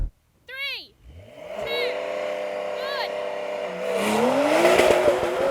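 A Porsche 911 Dakar and a Porsche Macan rev hard at the line of an off-road drag race, engine notes climbing and swelling into a loud, sustained roar with a rising pitch sweep near the end.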